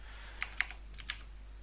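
A few sharp computer keyboard keystrokes, spaced irregularly, as a command is typed to install Android 4.4.4 KitKat on a Nexus 7 from a Windows 10 PC; quiet and close, with no talk.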